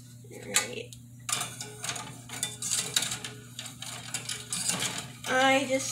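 A spoon stirs peppermint hot chocolate in a mug, producing quick light clinks and scraping ticks against the sides, close up, with a steady hum underneath and a brief voice near the end.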